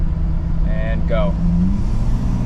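A Ford 6.7 Powerstroke diesel pickup with tuning, towing with the exhaust brake and tow/haul mode engaged, drones at a heavy low rumble as it accelerates steadily, with a couple of brief tonal chirps partway through.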